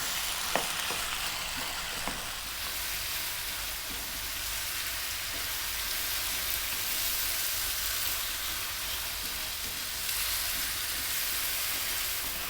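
Chicken curry with tomato cooks over lively heat, giving a continuous bright sizzle and hiss with occasional soft stirring clicks, close and fairly even throughout, without talk.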